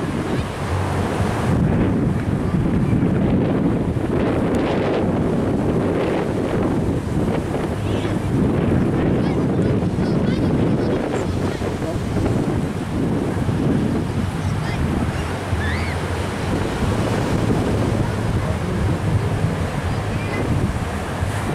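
Wind and breaking waves at Lucena beach in Paraíba make a constant roar with heavy wind buffeting, loud and close throughout, with faint voices now and then.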